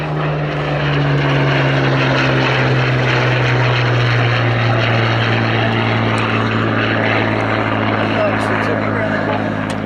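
A Hawker Hurricane fighter flies past at the Little Gransten air show, its propeller engine a loud, continuous droning roar throughout, with a commentator's voice running beneath it.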